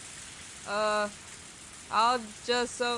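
Sudden rain in the Higurashi visual novel game falls as a steady, soft hiss, with a voice speaking in short bursts over it.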